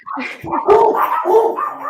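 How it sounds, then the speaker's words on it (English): Several dogs barking excitedly indoors in a home, loud, close and overlapping in quick bursts that carry on for the full two seconds without any talk. "Sorry about that. My dogs went crazy. I guess they heard someone knock."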